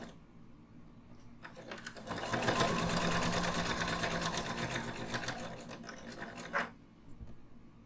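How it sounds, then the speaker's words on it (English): Sewing a fabric dart for a shoulder bag, a sewing machine runs in one continuous close, loud whirring stretch of several seconds, ending with a quick clack. "We're now going to stitch from the end towards the top of the dart"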